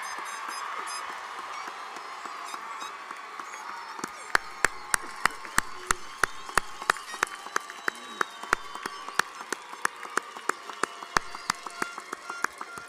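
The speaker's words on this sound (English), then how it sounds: "Please give them a round of applause." Audience at a graduation commencement ceremony applauding in a broad wash that thins after a few seconds into sparse, regular individual claps continuing to the end.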